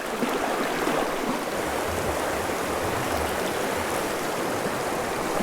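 A river in the Bighorn Mountains rushes steadily, a dense, even wash of flowing water that stays loud and unbroken throughout with no voices.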